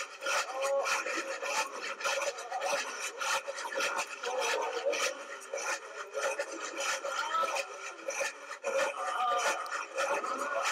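Saws in a corridor in the video game The Path: continuous raspy grinding and scraping, dense and fairly loud, with rhythmic rubbing strokes throughout and no talking.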